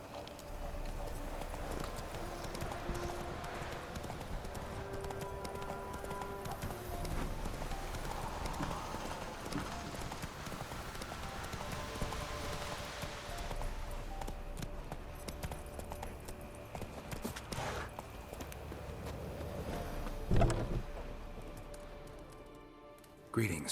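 Horse hooves clip-clop steadily in The Witcher 3 as Geralt's horse walks along, a continuous rhythmic patter under game ambience with faint game-world sounds and a brief louder knock near the end.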